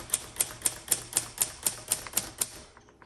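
Typing on a 1958 Royal Quiet Deluxe manual typewriter, with about ten crisp, evenly spaced key strikes at a steady rhythm. The strikes are close and clear, nothing plays under them, and they stop at the end.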